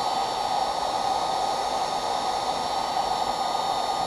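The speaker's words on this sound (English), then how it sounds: "Now you want to keep the distance away with the heat gun, because you don't want to burn the welding rod." A heat gun blows steady, loud hot air onto an HDPE plastic welding rod during a kayak hull repair, a constant broadband rushing hiss with no breaks across the whole stretch.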